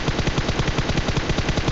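Rapid bursts from an M249 machine gun in a video game, a steady stream of loud, close shots repeating evenly with no pause.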